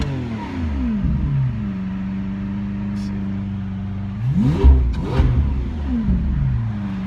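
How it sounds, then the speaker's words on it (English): A Lamborghini Aventador engine in neutral idles with a steady low drone, then is revved twice in quick succession, pitch sweeping up and falling back, loud and close with no talking. "Let me gun the engine for you a little bit."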